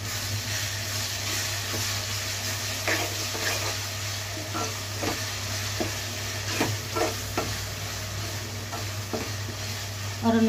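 A spoon stirs Andhra-style chicken fry in a pan, with steady close sizzling and frying hiss and repeated scraping strokes across the pan throughout.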